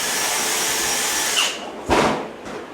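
A power drill boring a hole for an airline, running loud and steady for about a second and a half, then stopping before a short burst of handling noise and a brief whir near the end.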